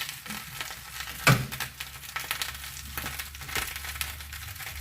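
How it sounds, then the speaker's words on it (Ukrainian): Soft sizzling of lavash frying in butter in a hot pan with scattered crackles, a sharp clatter near the start and quieter rustling scrapes after. "На сковорідку шматочок вершкового масла. Викладаємо лаваш."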